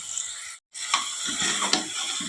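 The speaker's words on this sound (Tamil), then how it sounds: "உப்பு சேர்த்து இதை நல்லா வதக்கி விட்டுறலாம்" Tomatoes sauté with salt in a pan for a Kongu-style rice and lentil dish, a close, steady sizzle broken by a brief silence, then scraping stirs over continued frying.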